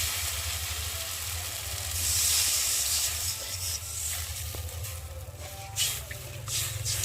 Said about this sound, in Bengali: আর এখন আমি জল দিয়ে দেবো